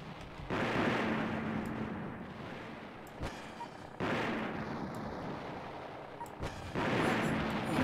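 Booming grenade blasts and explosions in the video game Battle Engine Aquila, several loud rumbling bursts with sharp onsets layered over continuous roaring battle noise.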